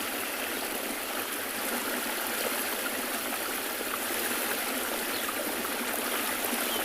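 Flowing water at the Tswalu safari reserve at sunrise makes a steady, dense rushing hiss, like a stream or small fall. It stays constant and close throughout with no voices.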